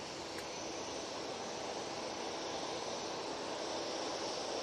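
A Singapore Airlines Airbus A350-900 near Manchester Airport gives a steady, broad jet roar that holds evenly throughout, distant but filling the scene, with no voices.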